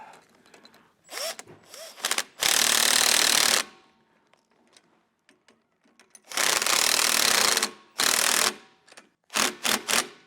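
Power tool bursts tightening the U-bolts on a Roadmaster Reflex steering stabilizer mounting bracket under a vehicle, several loud whirring runs of a second or so separated by short rattling taps and quiet gaps.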